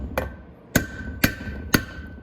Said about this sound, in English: put it in each bolt and give it a tap with the hammer